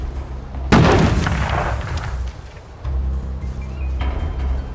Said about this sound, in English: Grenade! They're bombing us again!